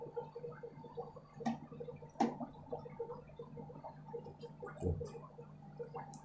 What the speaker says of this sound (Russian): Опускаю его в баночку и смываю уксусную угрицу именно с сачка.